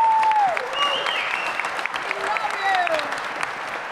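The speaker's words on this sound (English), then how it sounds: "you guys all are clapping" Crowd applause at a hacking conference panel, dense clapping that rolls on steadily with a few cheers or voices rising through it.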